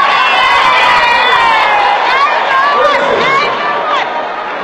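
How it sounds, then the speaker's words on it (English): A church congregation screams and cheers in surprise, a loud, dense crowd roar of shouts and whoops that holds steady throughout. "His congregation screamed in surprise."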